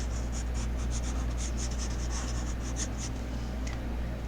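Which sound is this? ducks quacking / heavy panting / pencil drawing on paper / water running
pencil drawing on paper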